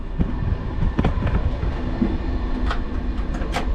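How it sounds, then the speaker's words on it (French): Loud rattling train noise with clanks and metallic clicks, heard from the gangway between two carriages as the rolling rumble carries on steadily. "ça fait du bruit. Écoutez. On passe entre les deux wagons."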